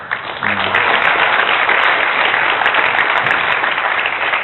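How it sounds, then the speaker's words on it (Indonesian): Loud, dense applause from a studio audience at a televised debate fills the room continuously, with a few voices briefly audible underneath. "Tepuk tangan dulu."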